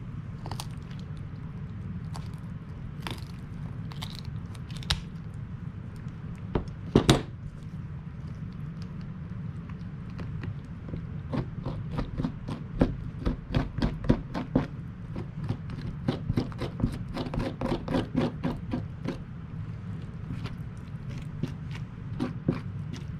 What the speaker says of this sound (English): A little more scraping on the top of the throat and the gills.